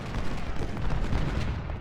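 Dense, continuous rumbling cannon fire from the Civil War video game Ultimate General: Civil War, heard alone as one sustained barrage without a clear pause.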